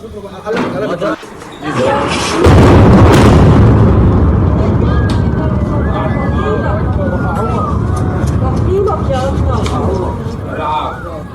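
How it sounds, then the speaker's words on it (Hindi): A loud, sustained roaring blast from the Beirut explosion rumbles on for seconds after a sudden onset, with a voice speaking over it and faint sirens in the background. "आप उस धमाके को सुन सकते हैं।"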